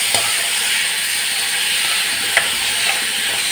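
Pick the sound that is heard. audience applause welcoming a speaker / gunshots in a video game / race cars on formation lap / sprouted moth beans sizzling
sprouted moth beans sizzling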